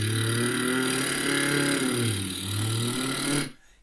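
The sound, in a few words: tenser lip trill vocal warm-up imitating a truck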